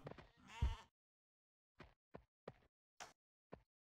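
A sheep bleats once, loud and wavering, then gives four or five short, clipped bleats spaced across a few seconds, close by with silence between them.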